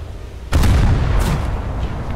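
A tank cannon in War Thunder fires a single loud, close boom that hits abruptly and rolls into a sustained rumbling decay, with no talk over it.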